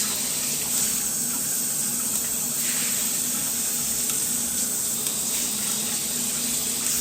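A Hibbent self-cleaning shower head sprays water in a steady, continuous hiss that stays even and fairly close throughout, with no talking.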